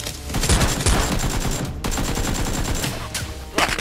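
Toy Nerf guns fire during a play fight, a dense, continuous rattle of rapid shots close by with faint shouting mixed in.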